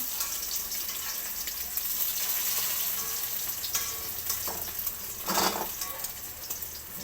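An okra omelette sizzling steadily in a frying pan just after being flipped, a soft continuous crackle with a few brief scraping stirs, close and moderately quiet.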